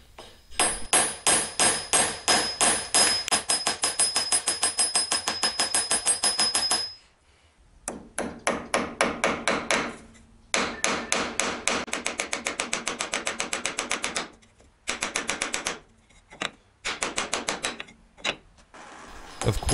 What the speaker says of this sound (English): Of course, beating on metal is ridiculous